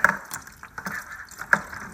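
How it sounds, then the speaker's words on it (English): Beer drains from a Grainfather conical fermenter into a bucket fermenter holding fruit, a quiet trickling fill with soft splashes and a few sharp drips, close and faint. "So now we're pretty much transferring from the catalyst into a bucket fermenter with fruit."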